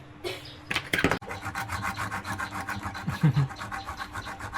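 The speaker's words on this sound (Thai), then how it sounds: "ขูดลวดอาบน้ำยา" Rapid rhythmic scraping of a blade against thin enamelled copper wire, stripping the enamel, a steady rasping stroke repeated many times, close up.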